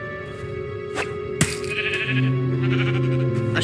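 Sheep bleats in the Minecraft Story Mode video game, a couple of wavering, nasal calls over a steady musical score with a sharp click midway, no speech.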